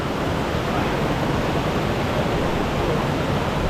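Steady, dense broadband rush of river water flowing nearby on a rugged hiking route to Adam's Peak in Sri Lanka, continuous and loud throughout with no voices.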